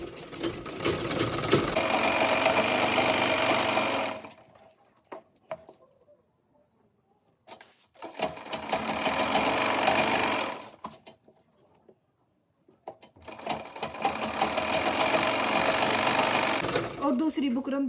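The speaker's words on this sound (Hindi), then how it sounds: "तो अगर हम यहाँ पे सिलाई लगाएंगे ऐसे बुकरम पे" A sewing machine stitches buckram onto the hem of an embroidered salwar in three loud running bursts of rapid needle clatter, each lasting a few seconds, separated by quiet pauses with faint handling noise.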